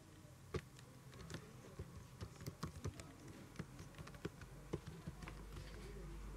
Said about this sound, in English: and I'm typing password.